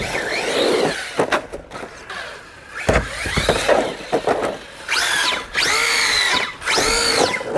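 A powerful 4S monster RC car drives outdoors, its electric motor whining up and down in repeated bursts of acceleration with short gaps, loud and near.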